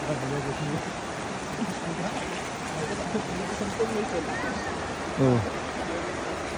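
Water rushes steadily at a Nashik waterfall during the rainy season, a broad continuous wash with a brief voice and a short bright tonal call near the end.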